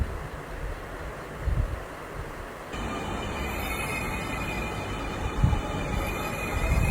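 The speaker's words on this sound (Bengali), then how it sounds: "ট্রেনের শব্দ শোনা যাইতেছে," A metro rail train arriving at an elevated station, a steady rushing rumble that swells midway with high metallic wheel whine and faint squeal, no talk.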